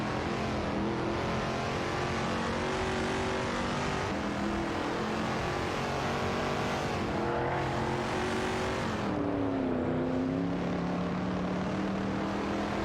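AI-driven race cars in a racing video game drone steadily, their engines rising and falling in pitch as they shift and accelerate, loud and unbroken with no talk.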